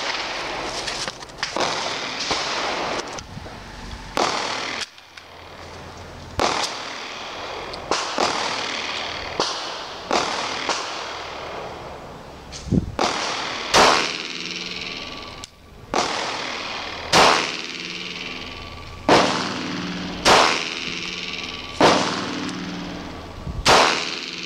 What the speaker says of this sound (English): So this is the SIG P226, and I'm definitely looking forward to shooting this one as well today.